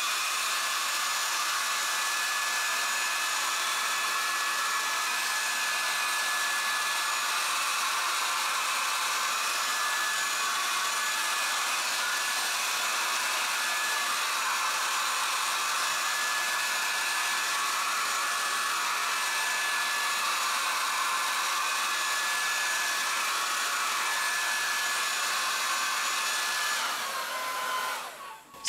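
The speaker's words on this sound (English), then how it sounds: "So I have plugged in my blow dryer." A plain, non-fancy blow dryer set on high hisses in a steady, loud broadband roar for nearly half a minute, with no talking, before switching off at the end.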